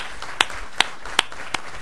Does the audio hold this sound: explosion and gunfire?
no